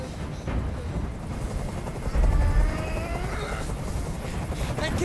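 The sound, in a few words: helicopter in the video game Detroit: Become Human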